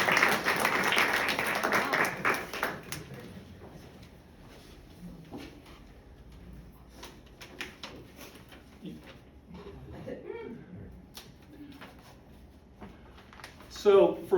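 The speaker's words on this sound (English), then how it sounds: "give a warm welcome, whether you clap, whistle" A church congregation applauds to welcome guest preacher Rev. Greg Wood: a loud burst of clapping for about three seconds that quickly fades into quieter shuffling and scattered room noise.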